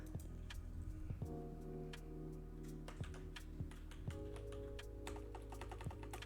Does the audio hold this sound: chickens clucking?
no